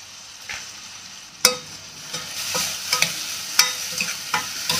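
Pepper and cumin roasting in a pan while being stirred, with a low sizzle under a series of sharp scraping clicks from the spoon at an uneven rhythm, close and fairly loud.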